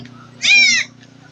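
Newborn baby goat bleating once, a short wavering cry close by over a steady low hum, born among three healthy kids from two nanny goats.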